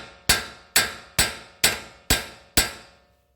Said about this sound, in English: All right, just use the hammer and use your force.